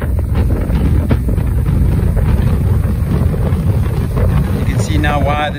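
Strong, gusty wind blows steadily over an estuary during spring tides, roaring loudly into the microphone throughout with a continuous broadband rush and no break.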